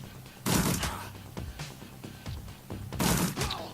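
Gunfire from a gun in the video game Shadowrun Returns: two loud, close bursts of shots, each with a crashing tail, separated by quieter impacts and clatter.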